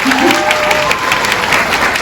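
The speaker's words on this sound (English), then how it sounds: "so a little clap for Adam Weir, please" Audience applause for a graduate at a master's graduation ceremony in Sydney, Australia, a loud, dense burst of many hands clapping close by throughout, with a brief voice near the start.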